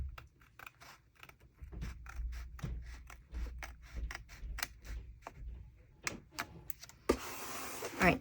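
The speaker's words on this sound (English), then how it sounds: "we'll use the gyro cut on the little rounded section" Gyro-Cut craft tool cutting paper around a small rounded section during journal setup, a run of close, crisp clicking snips in quick irregular bursts, ending in a brief rougher scraping rustle.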